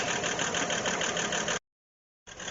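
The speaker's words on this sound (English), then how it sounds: "Except for that lifter noise, she's quiet as a church mouse." An old truck idles with a steady mechanical clatter from lifter noise, cutting off briefly into silence before resuming, close and moderately loud with no talk.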